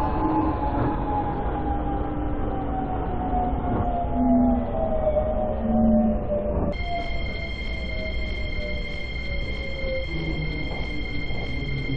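A Seoul Metro Line 1 subway train bound for Hanam runs steadily with a loud, continuous rumble and rising and falling motor whine. Partway through, the tone shifts and steady high-pitched whistles join the rolling noise.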